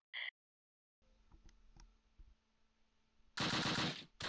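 Gunfire in the Close Combat wartime strategy game: scattered faint distant shots and clicks, then a loud close burst of machine-gun fire near the end.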